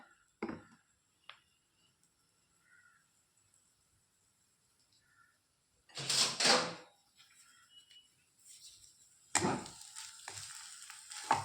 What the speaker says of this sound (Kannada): ಇದು ಬ್ರೌನ್ ಆಗುವ ತನಕ ಫ್ರೈ ಮಾಡಬೇಕು.